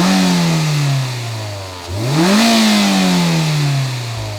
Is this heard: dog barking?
no